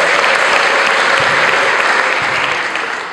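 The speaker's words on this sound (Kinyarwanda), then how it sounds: "Dukomere Imana yacu amashyi menshi cyane," A church congregation breaks into loud, sustained clapping to praise God after the sermon. The dense wash of hands stays full and even, tapering slightly at the end.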